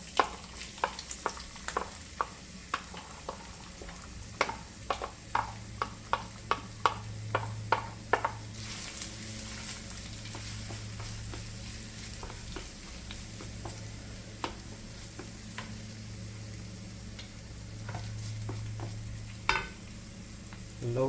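Onions softening in a pan over low to medium heat with garlic for a Jamaican turkey patty filling: a quiet, steady sizzle broken by a run of distinct spoon clicks and scrapes against the pan, with no talking.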